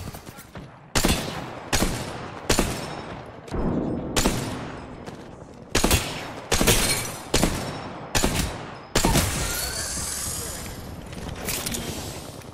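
Gunfire in a video game: repeated sharp, loud bursts of shots, some single and some in rapid clusters, spaced across the stretch with brief pauses, with a voice talking between volleys.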